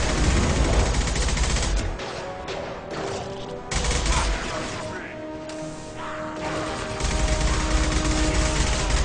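Heavy gunfire and crashing impacts in the Mass Effect 2 video game, loud and dense bursts broken by brief lulls, with someone talking excitedly over the action.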